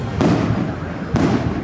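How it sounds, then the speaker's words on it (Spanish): Fireworks rockets explode at an outdoor baptism celebration, two sharp booms about a second apart, each trailing into a loud rumbling crackle over a busy crowd and band backdrop. "Retumban los cohetes."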